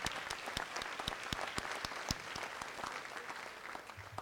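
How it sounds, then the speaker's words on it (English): Audience applause at a Wayne Hills Class of 2024 senior awards ceremony: a steady, moderately distant clapping crowd sustained throughout, with no speech over it. "Give yourselves a round of applause."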